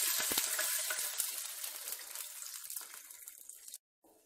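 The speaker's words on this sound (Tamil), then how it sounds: "இந்த பேன்லேயே 1 டம்ளர் பால் சேர்த்துக்கலாம்." Milk poured into a pan of ghee left from frying cashews sets off a loud, bright rush of hissing and bubbling that slowly fades over a few seconds before cutting out abruptly.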